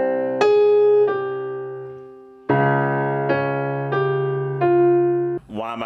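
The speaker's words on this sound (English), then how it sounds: "But then if I arpeggiate it," Synth notes in FL Studio arpeggiating a C melodic minor chord: a sustained chord followed by single notes sounding one after another, clean and close, ending with a brief burst of voice-like sound.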